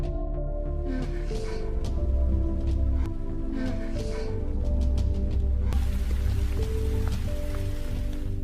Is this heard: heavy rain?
yes